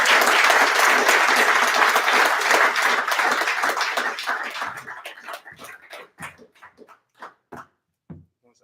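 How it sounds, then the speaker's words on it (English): Audience applause and cheering at a poetry night in a black box theater, loud and dense for about four seconds, then thinning into scattered individual claps that trail off near the end. "You guys give a warm round of applause for Lamonte the Poet."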